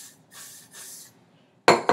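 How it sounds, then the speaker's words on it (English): Hairspray hisses from an aerosol can toward the roots of styled hair in short bursts, followed by two sharper, louder clicks or clatters at the end. "I spray like the root, and then I pull it out."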